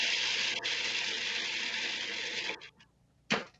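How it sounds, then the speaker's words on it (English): Food processor blending garlic and pine nuts for pesto, a loud continuous whirring roar that runs for a few seconds, then cuts out and gives one more short burst. "I'm going to throw in some garlic and pine nuts into my food processor"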